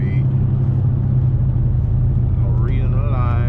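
A supercharged 850 hp Dodge Hellcat V8 engine rumbles steadily and loudly, then its pitch climbs sharply near the end as it accelerates hard toward top speed.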